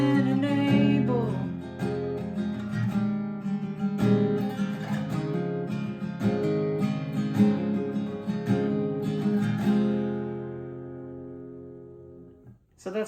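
An acoustic guitar strums the chorus of a song in an easier arrangement, steady full chords ringing close and clear for several bars before fading out.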